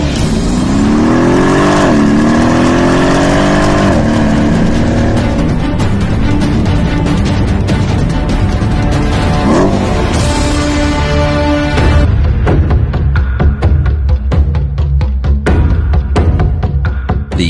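An AMG 5.5 litre V8 biturbo M157 engine runs on a test bench, loud and close, revving up and down with rising and falling tones before settling into a rough, pulsing throb.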